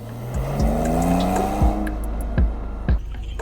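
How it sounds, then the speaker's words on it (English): A Porsche 911 Carrera 992 rolls slowly as its ceramic brakes give a high, drawn-out squeal that rises and wavers as the brake pedal is released, with a few sharp clunks punctuating it; no talking. "the ceramic brakes started making noise as I let go of the brake pedal"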